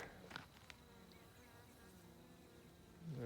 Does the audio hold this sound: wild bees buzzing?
yes